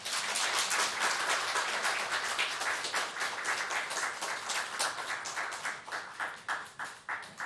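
A large crowd applauds at a graduation worship service of a Seoul Baptist seminary. The clapping is dense, loud and sustained, then thins into separate claps near the end.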